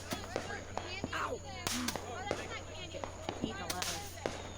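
Fireworks set off by children on the Fourth of July: a string of sharp, irregular pops and cracks, some close and loud, others lighter, with voices chattering in the background.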